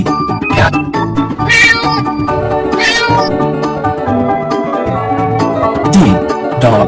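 A cartoon cat meows repeatedly in loud, drawn-out, tonal calls over a bright musical backing in a children's animal alphabet song.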